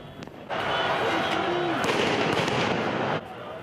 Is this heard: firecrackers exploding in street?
yes